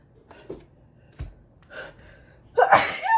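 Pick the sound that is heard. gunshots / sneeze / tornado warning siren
sneeze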